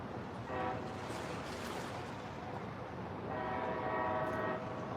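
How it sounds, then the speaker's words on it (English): A train horn sounds in two long blasts over steady rumbling rail noise, the second blast stronger and closer. "I hear a train horn."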